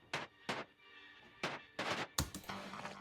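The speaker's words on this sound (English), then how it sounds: "Second layer is just noise." A Serum synth layer made only of noise, with no oscillators, gives short bursts of broadband hiss. About six separate hits come in an uneven rhythm, each with a sharp attack and quick decay, quiet and dry.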